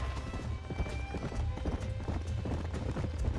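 Horse hooves clip-clop steadily at a trotting pace on a ranch trail in the video game Red Dead Redemption, with a faint voice briefly audible beneath the rhythmic steps.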